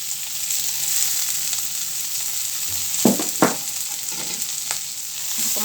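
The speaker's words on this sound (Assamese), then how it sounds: "অকণমান লাৰি দিম, অকণমান ভজা হোৱালৈকে লাৰি থাকিব লাগিব।" Ground spices and onions for a homestyle mutton curry stir-fry in a hot pan, giving a steady loud sizzle throughout with a few sharp stirring scrapes and clinks about midway.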